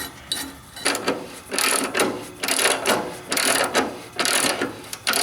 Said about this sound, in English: you can use a ratchet to tighten it up, and it'll compress the spring